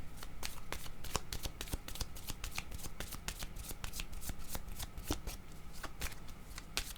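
A deck of cards is shuffled close up, with a rapid run of crisp riffling flicks that continues steadily and quietly for several seconds.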